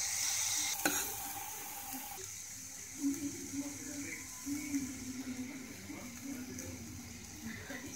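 Vegetables fry with a pinch of turmeric in a pan, a steady close sizzle with soft stirring scrapes and a few brief bubbling bursts throughout.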